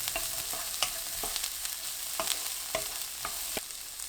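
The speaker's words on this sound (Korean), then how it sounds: "초당 옥수수를 넣고 1분 30초 볶아주세요" Carrots and sweet corn stir-fried in a pan, a soft steady sizzle broken by regular spatula scrapes and taps, close and fairly quiet, with no voices.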